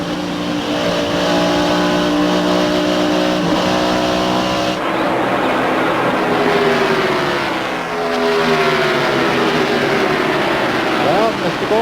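At the 1998 Pennsylvania 500, NASCAR race cars run near 180 mph, heard from onboard the 99 car as a loud, sustained engine roar that rises and falls with gear and throttle changes, while a broadcaster talks over it.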